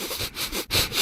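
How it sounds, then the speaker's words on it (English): A person sniffing in a short, deliberate solo of quick nasal inhales, close and fairly loud, separated by brief pauses, with no talk over it. "And now a sniff solo."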